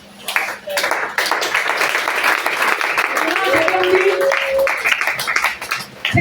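Church congregation applauding to acclaim the Lord during a French-language sermon, with dense, steady clapping that lasts about six seconds, along with a few raised voices and cries mixed into the applause.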